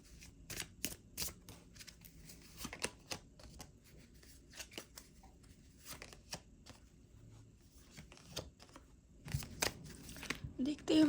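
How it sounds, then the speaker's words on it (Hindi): Tarot cards drawn and shuffled from a deck, giving soft papery flicks and slides in scattered bursts, close and quiet, with a louder rustle toward the end and faint talk in the background. "सबसे पहले हम इस डेक से कार्ड लेंगे।"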